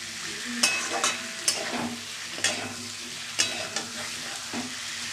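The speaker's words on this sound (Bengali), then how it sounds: "এবার পেঁপে সিদ্ধটা দিয়ে দিলাম। আবারও একটু কষিয়ে নেবো ভালো করে।" Boiled papaya is fried in spiced oil and stirred in a pan for a vegetarian curry: a constant close sizzle with periodic scraping clacks of a spatula, around eight strokes at an uneven pace, no talking.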